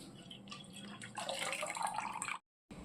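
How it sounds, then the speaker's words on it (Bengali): Milk is poured into a metal cooking pot for payesh, giving a soft, close trickling splash that runs steadily for a couple of seconds and then stops abruptly. "প্রথমে আমি ডেচকিতে দুধ ঢেলে দেবো।"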